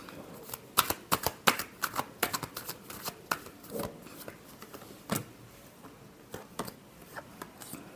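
Tarot cards shuffled by hand in a run of quick close riffling flicks and taps, busier at first and sparser later, with no talk.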